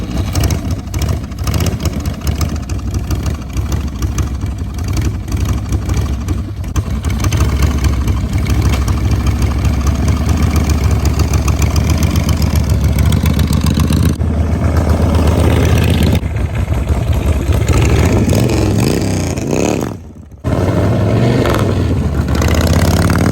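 A Harley-Davidson 96-inch Shovelhead chopper engine runs loud and close with a deep, steady rumble, rising in revs partway through, dipping briefly near the end and then carrying on.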